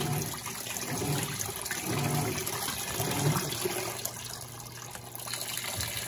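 Electrolux Blue Touch 12kg washing machine filling with hot water while washing bath towels, a steady gushing inflow with faint low hum and small splashing variations, moderately loud and heard alone.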